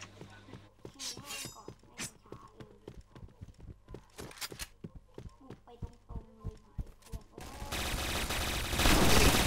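Grenade blast and gunfire in the Point Blank online shooter game, a run of sharp rapid shots and clicks followed by a loud sustained burst at the end, with voices talking over it.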